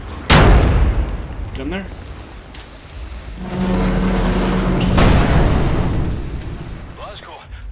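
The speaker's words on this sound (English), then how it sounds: "those cannons are blasting us into the sky" Heavy cannons boom from a cliffside bunker in Wolfenstein The New Order, a loud blast near the start followed by rumbling explosive bursts, while a voice briefly speaks.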